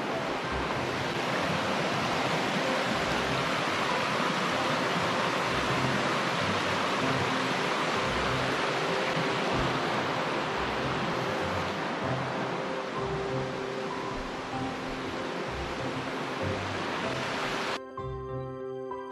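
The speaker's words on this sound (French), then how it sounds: "Un joli ruisseau de montagne." A mountain stream's steady rushing water fills the scene with a constant broadband roar, close and loud, without pause, tumbling over rocks.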